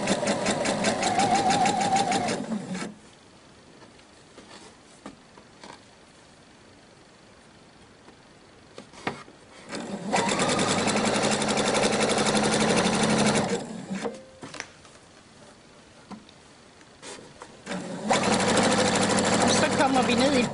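Sewing machine stitching along the folds of a pleated skirt, three loud close bursts of rapid stitching separated by quiet pauses, with talking heard in the gaps.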